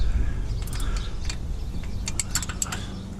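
Hand wrench ratcheting on a Lincoln Town Car AC compressor, a series of quick metallic clicks and ratchet ticks over low background rumble, close by, no talking.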